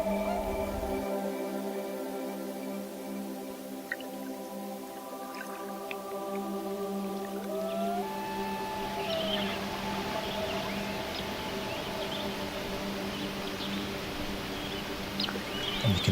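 Young common loon chicks on a lake in Algonquin Park give faint, high squeals, mostly drawn-out tones with a few sliding calls. A steady hum and some water noise sit under them.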